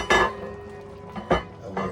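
A metal lid set onto a pot of beef stew, giving a sharp clink followed by two lighter rattling knocks as it settles, close and loud.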